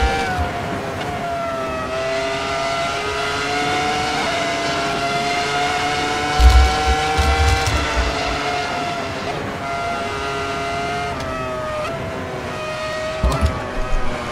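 Ferrari F2004 V10 racing engine in Assetto Corsa at Silverstone, a high, sustained screaming whine that climbs and falls steadily through gear changes, with faint low thumps now and then.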